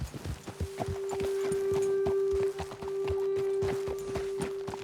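Horses walking in Red Dead Redemption 2, steady clip-clop hoofbeats at close range with a continuous tonal hum beneath, fairly loud and even throughout.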